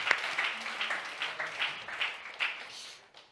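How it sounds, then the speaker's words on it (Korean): A church congregation claps briefly in a sparse, rhythmic pattern of distinct claps, a few hands roughly in time, fading out after about three seconds. "박수 한번 쳐주세요."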